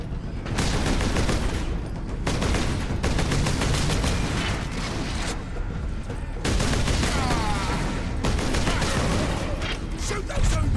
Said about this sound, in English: God, the sound of this bolter sucks.